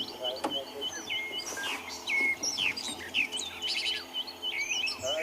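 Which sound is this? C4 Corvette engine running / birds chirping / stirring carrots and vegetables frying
birds chirping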